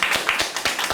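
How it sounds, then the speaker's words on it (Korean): A group of people at a middle-school reading debate competition claps briefly, a quick patter of rapid, fairly close hand claps lasting about a second. "우리 한번 박수 한번."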